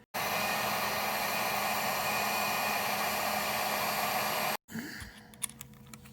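A heat gun blows hot air onto a part of a Volkswagen Vanagon during a charcoal canister replacement, a loud constant whooshing hiss that cuts off abruptly, followed by faint handling clicks.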